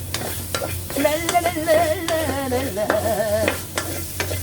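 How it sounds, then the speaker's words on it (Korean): Meat and pork fat stir-fry in a pan on lowered heat, a loud, close crackling sizzle with repeated spatula scrapes, plus a wavering whine that rises and falls through the middle. "먼저 볶기 전에 고기를 먼저 볶습니다"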